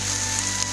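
Rain falls steadily during a trek on Gunung Masurai in Merangin, Jambi, a dense, close hiss of drops with faint tonal hum beneath, no voices.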